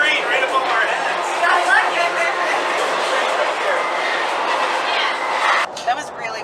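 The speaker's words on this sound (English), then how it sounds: "There's a train right above our heads." Steady rumble of a train rolling close above at Jensen Beach, wheels clattering continuously, with people talking under the noise.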